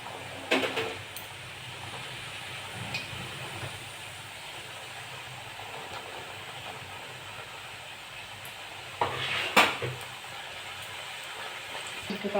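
Round atta nimki fry in hot white oil in a kadai over a gas flame, giving a low, even hiss with a few louder bursts of bubbling and clattering, close by and free of speech.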